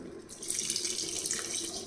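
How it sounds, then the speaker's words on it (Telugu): A steady stream of water rushes and splashes into a cooking pot, continuous and fairly close for the whole moment. "దీంట్లో టూ గ్లాసెస్ ఆఫ్ వాటర్ పోసుకొని ఉడకపెట్టేసుకున్నాం"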